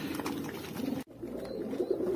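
Close, low cooing from a black male pigeon that is molting its wing feathers, a rolling call broken by a brief cut before it resumes, with no voices.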